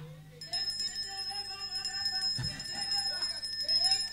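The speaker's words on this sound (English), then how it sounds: "As I begin to hit the bell" A bell struck during a church prayer service, its clear ringing tones sustained with bright overtones while someone speaks over them, with a sharper strike partway through.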